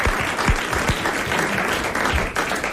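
Studio audience applauding on a 1991 French television game show, dense steady clapping filling the whole stretch at close range with a few heavier thumps, no voices on top.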